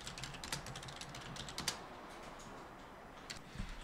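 Rapid, irregular key clicks from someone typing data into an Excel spreadsheet on a computer keyboard, close and fairly quiet, with a few louder strokes like the Enter key.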